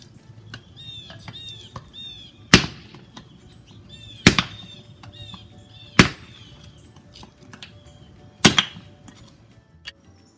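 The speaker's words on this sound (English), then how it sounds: "I'm going to hit it with the pole of the axe right where I've cut it. And it cuts in half" An axe pole strikes firewood at a pre-cut line, splitting it in half: four sharp, loud wooden cracks spaced a couple of seconds apart, with faint bird chirps in the background and no talking.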